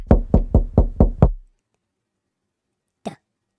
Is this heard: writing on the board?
no